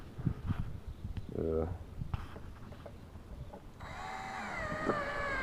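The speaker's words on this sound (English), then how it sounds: "Last few screws are going in." A power driver sets the last few screws into a window frame on a school bus being converted into a tiny home, with a rising motor whine near the end while someone talks over clunks and handling noise.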